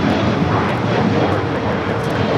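A 12-year-old Aeromexico Boeing 737-800 arriving from Guadalajara at LAX airport gives off a loud, steady engine roar that stays constant throughout with no talking.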